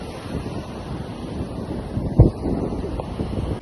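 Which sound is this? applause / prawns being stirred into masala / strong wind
strong wind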